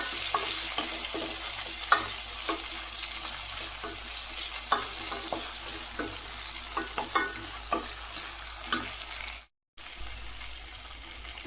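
Tomatoes sautéing with salt in a pan for an elephant-yam curry, a steady broadband sizzle broken by scraping stirs and spatula taps, with a brief silent gap near the end.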